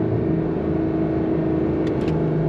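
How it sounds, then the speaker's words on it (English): A 2025 Porsche 911 Carrera GTS under hard braking gives a loud, steady engine drone with a low tonal hum, and brief blips near the end suggest quick downshifts; no talking. "on the brakes, some nice quick downshifts"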